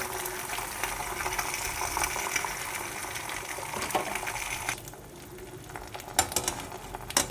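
Egg whites cooking in olive oil in a hot pan give a steady broadband sizzle and crackle that runs throughout, thinning briefly near the end before a few sharper pops.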